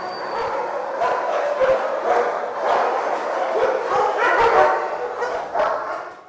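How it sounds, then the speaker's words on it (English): Many dogs in military working-dog kennels barking and yipping excitedly, a dense continuous chorus of overlapping barks echoing in an enclosed space, fairly loud throughout. "It gets pretty loud in there because all the dogs get pretty excited when you see people walking in there."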